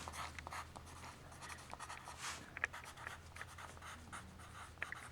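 Soft, dry scratchy strokes of a brush dragged across paper, irregular and close, quiet throughout with a few sharper scrapes.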